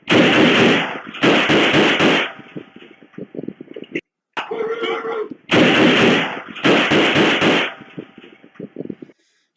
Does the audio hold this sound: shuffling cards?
no